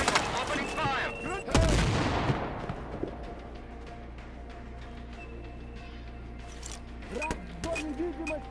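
Gunfire in the video game Sniper Ghost Warrior 3: a sharp loud shot bursts out early, followed by a long decaying rumble and scattered quieter impacts, with a few later bangs over a steady low background.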